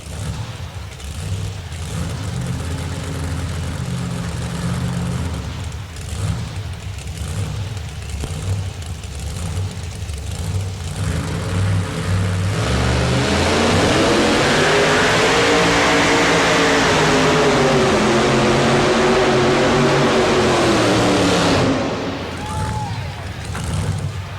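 A two-wheel-drive pulling truck engine roars at a truck pull, a loud, sustained rumble that builds and climbs in pitch midway through, with an announcer talking over it.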